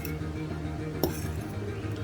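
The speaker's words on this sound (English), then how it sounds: "So now we stir" A utensil stirs Maruchan Shio Yakisoba instant noodles, Ore no Shio Stamina Ninniku variety, in a container, with soft scraping, a low hum, and one sharp clink near the middle.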